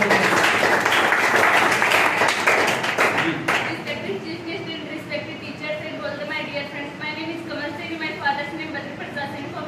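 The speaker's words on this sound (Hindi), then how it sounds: "इनके लिए भी जोरदार ताली होनी चाहिए" Audience applause at a World No Tobacco Day gathering, loud dense clapping for the first few seconds that thins into scattered claps under someone speaking over a crowd murmur.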